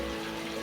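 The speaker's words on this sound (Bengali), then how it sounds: "জলটা দিয়ে দিলাম।" Water pouring into a cooking pot of chicken and kohlrabi being braised in spiced oil, a steady close rush of liquid filling the pot for under a second, with no voices.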